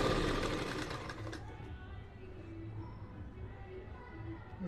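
Sewing machine stitching a folded salwar bottom hem: a close, fast mechanical whir in the first second or so, then fading into quieter handling noise.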